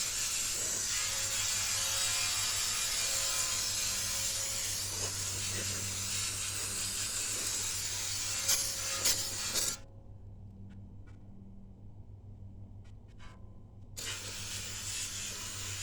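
Aerosol spray hisses inside a 700R4 transmission pan from a 1988 GMC 5.7. A loud, steady, close blast runs for about ten seconds, then stops, leaving faint clicks before the hiss returns.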